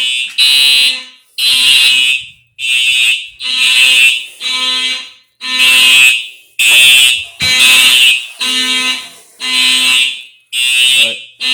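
A Simplex 4005 fire alarm system sounds during a home system test, with a loud, close horn pulsing about eleven times in a steady, regular rhythm and nothing else heard.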